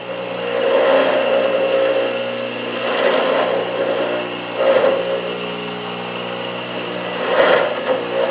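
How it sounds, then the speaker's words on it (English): A repurposed old washing machine motor runs steadily while stripping paint from a Dinky Austin toy car, giving a continuous mid-pitched whir with a few brief surges as the part is pressed against it. "at the moment he's using the old wash machine motor and he's taking the paint off"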